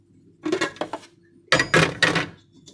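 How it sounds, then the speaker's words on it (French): A knife cuts small pieces of butter on a dish while making a banana cake, giving two short bursts of clinking, scraping contacts against the dish, close and fairly loud, with no talking. "on va couper des petits bouts de beurre, peut-être."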